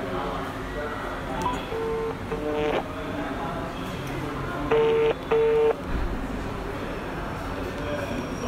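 A phone is dialed on loudspeaker, giving several short beeping keypad tones in separate pairs against a noisy indoor background, with people talking.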